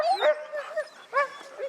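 Fourteen sled dogs of a Norwegian-style team bark, yip and whimper excitedly in quick overlapping bursts at close range before a daily training run, with no one speaking.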